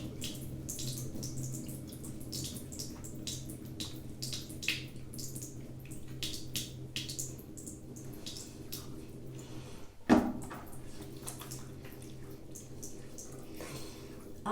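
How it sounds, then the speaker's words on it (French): Water runs gently and steadily from a tap, a soft continuous splashing with a brief clatter partway through. "je vais laisser un petit peu le robinet couler doucement"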